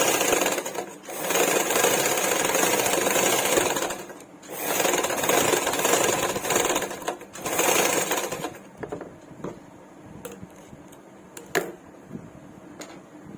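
A sewing machine stitching a baby frock, running in fast rattling bursts of a few seconds each with short pauses between, then lighter clicks and handling noises near the end.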